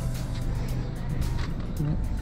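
Low steady rumble of a Mazda 3 1.5 automatic idling, a used car with 53,000 km, close and constant with faint clicks above.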